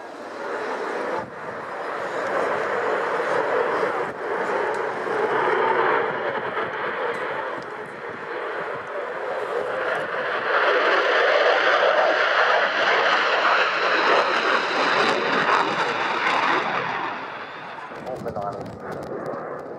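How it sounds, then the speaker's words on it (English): A Typhoon FGR-4 fast jet of No. 29 Reserve Squadron in a flying display at the Royal International Air Tattoo, a loud, sustained broadband jet roar that swells and holds for about twenty seconds, then fades near the end. "Their sole fast jet display is the Typhoon FGR-4 from No. 29 Reserve Squadron, flown by Flight Lieutenant Mark Long."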